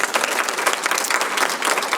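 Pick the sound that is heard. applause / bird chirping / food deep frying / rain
applause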